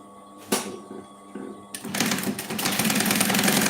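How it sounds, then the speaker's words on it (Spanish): A sewing machine stitches a small handle onto a fabric cosmetics bag, starting with a few short mechanical bursts and then running fast and steady, close and fairly loud. "Ahora vamos a coser acá una pequeña manija, pero es opcional."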